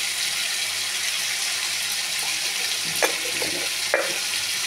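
Food frying in a pan with salt and turmeric gets stirred, giving a soft continuous sizzle with a few distinct scrapes and clinks of the spoon near the end, close and moderately quiet, without speech.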